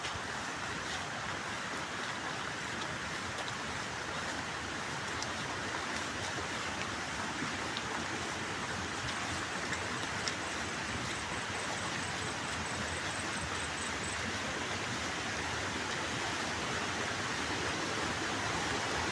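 River water pours over a small stone check dam in a steady, even rush. The wash of sound is soft and unbroken, as if heard from a short distance, with no voices.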